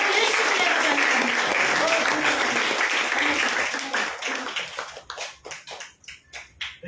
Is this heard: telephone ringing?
no